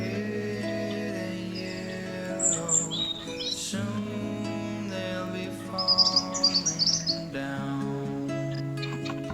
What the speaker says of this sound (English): These are painted quail and there's a few varieties in here.